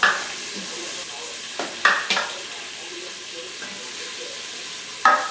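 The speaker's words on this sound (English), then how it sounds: "I'm just going to saute them for a little while" Vegetables sauteing in a little oil inside an Instant Pot for Jamaican oxtail stew: a soft, steady sizzle broken by a few brief scraping stirs, heard close.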